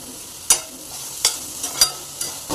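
Small onions frying in a pan for a veg kofta curry masala, with a soft sizzle broken by four crisp spatula clicks against the pan at irregular intervals and no voices.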